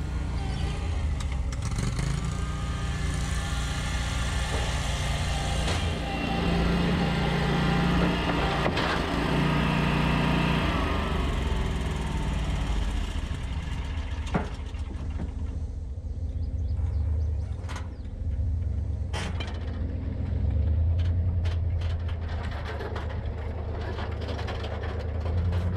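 Lawn mower fitted with new blades, cutting overgrown yards and a baseball field: a loud, steady engine drone runs throughout with low rumble and occasional brief knocks, heard close up.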